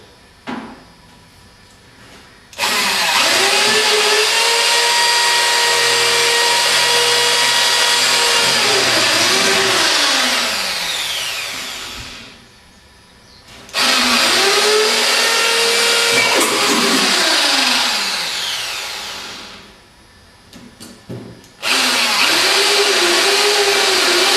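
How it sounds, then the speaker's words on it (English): Power drill running in long sustained bursts while drilling and screwing panels together, three loud whirring runs with pitch sweeps as the motor slows, separated by brief pauses. "once you've completed drilling and screwing the panels together"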